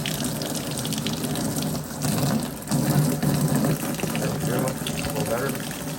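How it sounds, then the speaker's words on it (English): Old coolant draining from a Honda mini truck into a bucket and pan, a steady gushing pour running throughout with people talking nearby. "But I want to drain this coolant."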